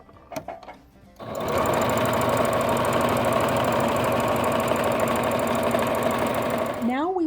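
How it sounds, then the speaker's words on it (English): A sewing machine runs fast and steadily up close, stitching two fabric pieces together with a quarter-inch seam after a few brief handling clicks. "Now I'm going to stitch these two together using a 1/4 inch seam"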